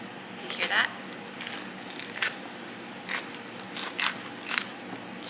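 A chilled Dubai chocolate bar snaps and crackles in several sharp, brittle bursts as it is popped out of its mold, close and fairly faint. A voice talks between the cracks.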